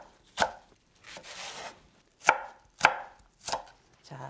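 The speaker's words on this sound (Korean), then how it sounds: "파를 듬성듬성 자를 거예요" Knife chopping green onion on a cutting board while preparing vegetables for a dongtae-jjigae pollock stew: a handful of sharp, separate chops with pauses between them, close and clear with no talk.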